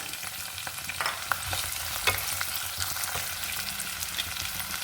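Chopped onions sizzling in hot oil with popped cumin seeds, a steady bright frying hiss with occasional spoon scrapes and stirring clatter against the pan.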